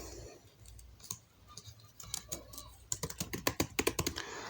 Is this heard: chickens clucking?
no